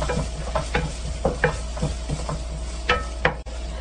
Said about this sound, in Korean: 나무 주걱이나 나무 젓가락 이용해서 재빠르게 볶아줍니다